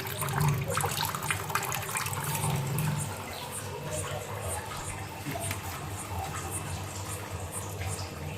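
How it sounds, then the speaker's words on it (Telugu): Water runs steadily from an under-sink RO water purifier in a domestic kitchen, a continuous close hiss and trickle that stays level throughout, slightly stronger in the first few seconds. "చూడండి, ఇక వాటర్ కూడా వస్తున్నాయి."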